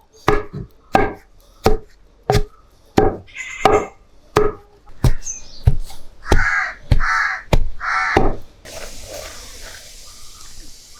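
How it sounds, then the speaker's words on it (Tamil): Fried herbs pounded for a homemade herbal hair oil: a steady series of about a dozen heavy, evenly spaced thuds, close and loud, ending in a softer hissing rustle. "ஒவ்வொரு மூலிகையாக நம்ம இப்படி போட்டு இடித்து எடுக்கணும்"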